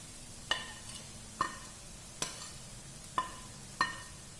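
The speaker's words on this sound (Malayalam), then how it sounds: "പച്ചച്ചുവ മാറുന്ന വരെ നന്നായി വഴറ്റി കൊടുക്കുക" Spice masala with kasuri methi is being sautéed in a pan, with a soft steady sizzle under five sharp, evenly spaced scrapes and taps of a spoon against the pan.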